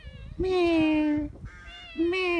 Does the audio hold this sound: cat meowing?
yes